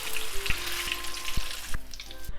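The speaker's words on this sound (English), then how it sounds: "we're gonna fry it very quickly for about 1 to 2 minutes or so" Menchi Katsu, a breaded Japanese minced-meat cutlet, deep frying in oil with a steady, bright hiss of sizzling and a few soft knocks and bubbling pops, close and fairly loud.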